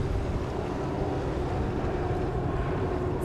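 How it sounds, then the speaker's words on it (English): Racing powerboat engines at a race finish line, heard as a steady, loud broadband roar with wind noise, the boats apparently close by and running continuously with no voices. "I don't hear a very good noise from the engines."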